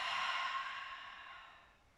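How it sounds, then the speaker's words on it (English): A long, soft breath pushed out through the mouth during a gentle yoga session, airy and close, fading gradually over two seconds with no talking. "exhaling."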